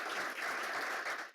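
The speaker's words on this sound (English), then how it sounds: "can we give Katie a big round of applause?" Dense audience applause filling a brief stretch at a careers event, steady and moderately loud throughout.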